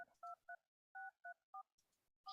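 Telephone keypad dialing a phone number: a run of crisp, evenly paced dual-tone beeps with short gaps between presses, close and clean with no talking.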